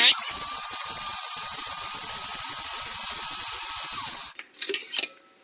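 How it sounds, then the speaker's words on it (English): Small electric grinder whirring loudly and steadily as it grinds a mushroom chai tea blend, a high continuous whine for about four seconds, then stopping abruptly and followed by a few clattering knocks. "I'm going to grind."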